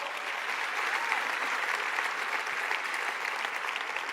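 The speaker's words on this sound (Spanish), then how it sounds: "Dale fuerte el aplauso al Señor" A church congregation applauds steadily and loudly for several seconds, a dense even wash of clapping filling a large worship hall with no voices rising above it.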